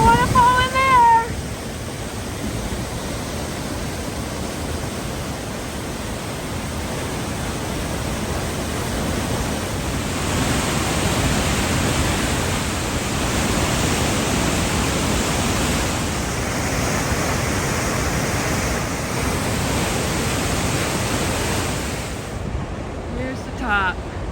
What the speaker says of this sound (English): Now waterfall in there.